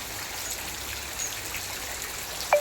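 Heavy rain falling on a home during a downpour, a steady soft hiss of drops and trickling water at moderate distance, with one short sharp knock near the end.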